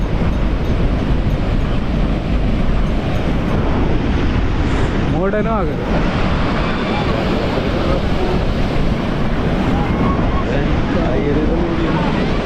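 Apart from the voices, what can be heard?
rough sea waves at Gokarna beach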